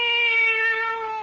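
A cat gives one drawn-out, tonal meow, heard loud and close and alone in a 1974 radio drama, holding a steady pitch before trailing off slightly at the end.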